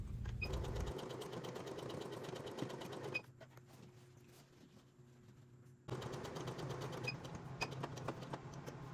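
A sewing machine stitches fabric in steady rapid bursts, running loud for about three seconds, pausing briefly, then stitching again through to the end.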